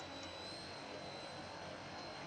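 Antonov An-12 four-engine propeller cargo plane in BeamNG.drive, its engines giving a steady, continuous drone that holds level and moderately loud throughout, with no talk.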